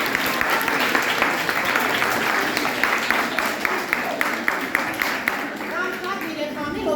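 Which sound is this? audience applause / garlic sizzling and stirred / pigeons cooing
audience applause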